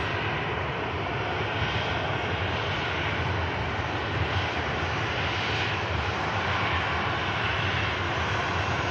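Airliner engines roar steadily at Manchester Airport, a loud, continuous broadband drone with no break, as a jet, likely a departing Ryanair flight, powers along nearby in wet weather.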